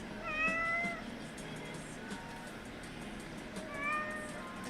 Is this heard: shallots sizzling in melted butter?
no